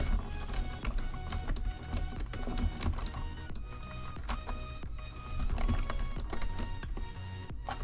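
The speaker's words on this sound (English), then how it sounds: "I'm sorry if you guys can hear my keyboard very loudly." Loud computer keyboard typing, a dense rapid clatter of keystrokes with close, sharp clicks continuing steadily throughout with no talk.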